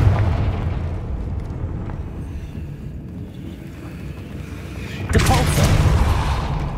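A Confringo explosion spell in Hogwarts Legacy bursts late with a sudden loud boom that rolls on as a rumbling roar, after several seconds of a steady low background drone.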